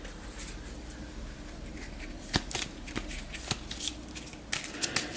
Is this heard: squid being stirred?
no